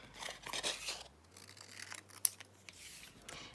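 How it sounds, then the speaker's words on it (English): Scissors snip through small scraps of printed paper, a faint, close, papery cutting with light rubbing between cuts and one sharp click partway through. "And now I'm simply going to cut out my papers."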